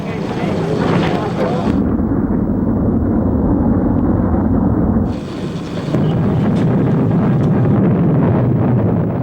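A Jupiter C rocket launches Explorer 1 in 1958 with a loud, continuous roaring rumble of rocket engines that dips briefly mid-way and then resumes at full strength.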